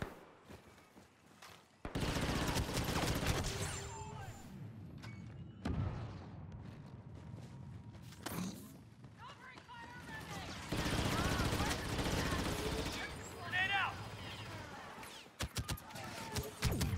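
Bursts of gunfire from enemy troops in the Star Wars Battlefront 2 beta, mixed with loud rapid shots, blasts and game ambience; voices and footsteps come and go throughout.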